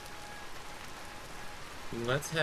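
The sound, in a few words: rain falling in the video game Vintage Story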